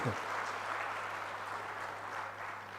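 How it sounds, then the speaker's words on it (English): Audience clapping at an international conference: steady, faint applause from a crowd continues evenly throughout, heard at a distance with a low hum beneath. "those who are happy with the achievement will certainly clap"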